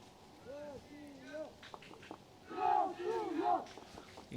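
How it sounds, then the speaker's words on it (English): A Russian crowd at a European youth archery competition chants in rising, rhythmic unison, distant and moderately loud after a quieter stretch of voices. "You can just hear the Russian crowd chanting in the background there"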